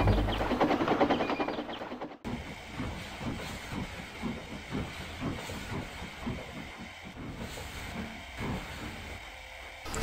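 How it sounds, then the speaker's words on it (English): A steam train rumbles over a bridge and onto the railway, giving a heavy, loud, continuous roll with rhythmic clattering beats and a steady hiss. "they rumbled over the bridge and onto the Fat Controller's railway"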